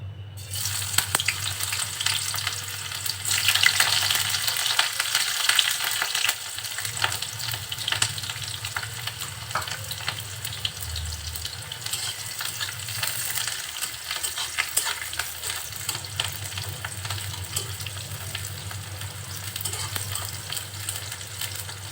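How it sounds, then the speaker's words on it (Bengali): Chopped onion and chili frying in hot oil for a spiced okra dish, a steady dense sizzle and crackle that runs unbroken, close and even, with faint stirring scrapes and no voices. "তেলটা একটু গরম হলে কেটে রাখা পেঁয়াজ আর ঝাল দিয়ে দিচ্ছি"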